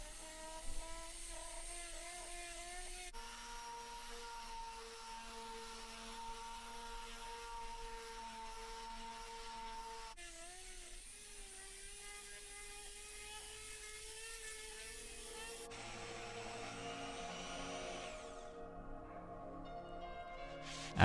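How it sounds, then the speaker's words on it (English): A detail sander with 120 grit paper works over the edges and top of a pallet wood butcher's block table top, giving a steady mechanical whir and buzz that shifts pitch between passes, close and continuous. "I then used the detail sander with 120 grit to go all around the"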